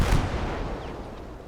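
A 4.5 cannon artillery piece fires in the WWII game Gates of Hell: Ostfront, one heavy booming report with a low rumbling tail that fades over a second and a half, alone.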